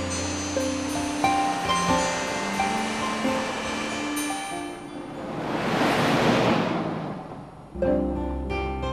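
Siripum waterfall at Doi Inthanon, pouring in two streams down a cliffside, swells into a broad rushing roar midway before easing off, with steady tonal sounds running beneath throughout.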